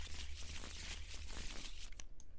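Playing cards are shuffled for a solo tabletop role-playing game, a quiet, continuous papery riffle and crinkle lasting a couple of seconds, close to the microphone with no voice over it.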